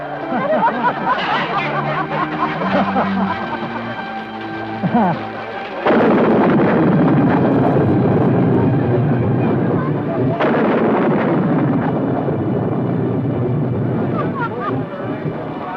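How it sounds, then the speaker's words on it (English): Thunderstorm with heavy rain from a 1976 film, a steady roar of downpour with deep rumbling thunder cracks breaking in partway through, loud and continuous. "as thunder and lightning exploded in the sky and the rain began to pour from the heavens"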